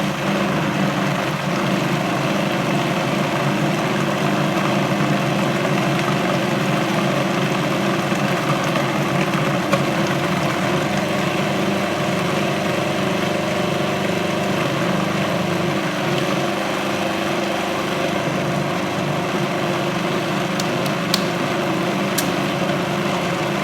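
An electric hand mixer runs steadily on high, beating runny cupcake sponge batter for Easter lamb cupcakes; a continuous close motor whir and buzz holds even throughout with no talk.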